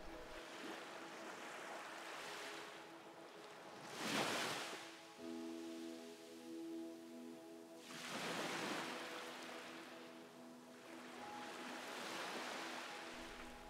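Ocean waves rolling in and washing out, three slow swells rising and fading over a soft continuous wash, gentle and steady at low volume, with a faint tonal hum underneath.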